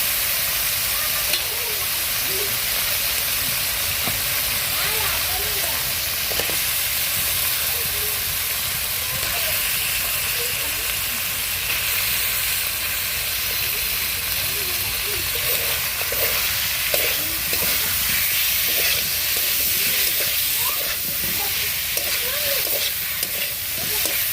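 Masala frying on a clay stove, a continuous bright sizzle with repeated clattering stirs and scrapes in the pan, close and loud for the whole stretch.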